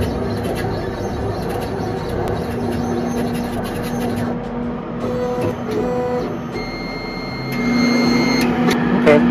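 A Monport 40W CO2 laser engraver running a test cut, giving a continuous mechanical hum with a steady tone, faint whirring and stepping of the moving head, and a slight rise in level near the end.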